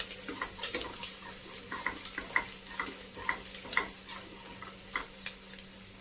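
Biryani masala with fried onion is sautéed in a pan for mutton biryani: a faint, steady sizzle broken by scattered light clicks and scrapes of a spoon, with no voices.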